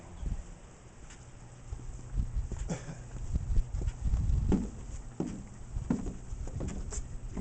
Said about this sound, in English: You can hear my footsteps on the boardwalk.